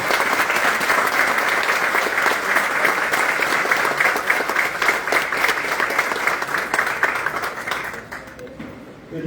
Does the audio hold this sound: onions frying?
no